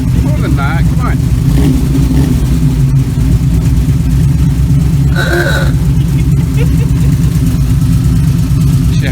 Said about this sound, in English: the law states that you have to rev it up before you switch it off